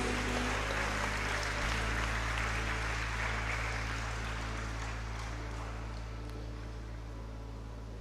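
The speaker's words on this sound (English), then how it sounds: "Let us have a loud round of applause for our dear students." Audience applause for students at a medical white coat ceremony, steady broadband clapping throughout with a low hum underneath, gradually fading slightly toward the end.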